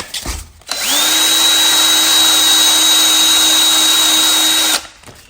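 A power sander with a finer grit works the cut end of a bolt, giving a loud, steady, high whine that spins up, holds for about four seconds, and winds down, with no other sound.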